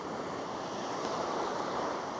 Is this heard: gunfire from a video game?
no